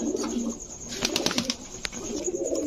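A chocolate racer pigeon coos in a loft among other birds, with soft throaty burbling calls near the microphone over a light background hum.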